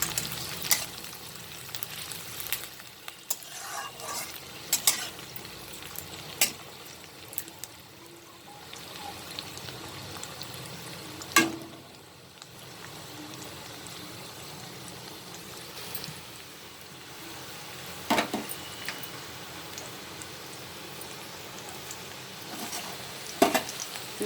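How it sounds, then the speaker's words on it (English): Long beans sautéing in a pan for an aloo beans stir fry, a faint steady sizzle broken by occasional soft stirring scrapes and clicks spread across the stretch, close but quiet. "And I'll saute it for some time."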